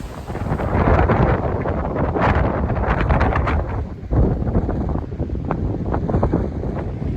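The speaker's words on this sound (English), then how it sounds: "it's windy" Strong wind on the Appalachian Trail buffets the microphone in heavy, roaring gusts, loud and continuous with a brief lull in the middle.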